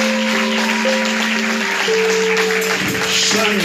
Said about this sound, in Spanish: aplaudan al Rey